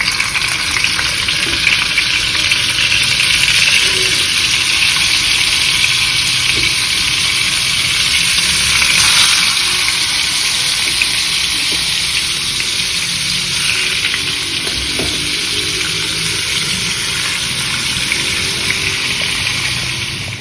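Pitha, Bangladeshi oil cakes, frying in hot oil, a loud dense continuous hiss and bubbling crackle that stays steady and close throughout.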